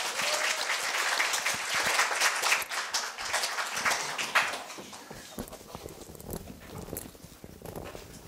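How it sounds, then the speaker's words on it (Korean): Audience applause for a student speaker at a middle school speaking festival, full and dense at first, then thinning and fading out as individual claps trail off toward the end. "큰 박수 부탁드립니다"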